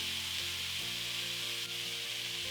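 Cauliflower sautéing in a pan for potato and cauliflower with peas (aloo gobi), giving a steady, close sizzle and hiss with faint rubbing and stirring noises throughout, no voices.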